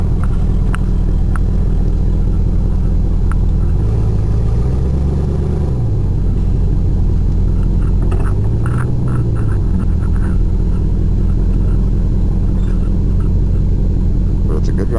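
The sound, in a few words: Oldsmobile car with 305 engine running while driving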